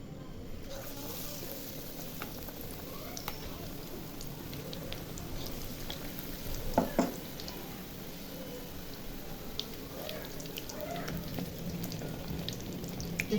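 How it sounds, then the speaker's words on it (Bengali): Eggplant fritters (beguni) frying in hot oil give a steady, continuous sizzle with soft crackles throughout, fairly quiet and with no talking over it. "এখন আমি এভাবে সবগুলো বেগুনি ভেজে নিব।"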